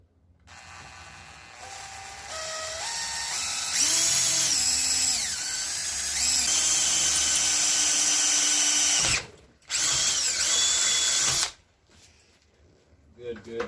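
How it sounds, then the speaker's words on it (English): A power drill whines loudly up close while drilling a hole during a fuel pressure gauge install on a 406 SBC Oldsmobile Cutlass Supreme, its pitch rising as it speeds up and bites in, with brief pauses and a short stop near the end. "now we gotta drill our hole through here"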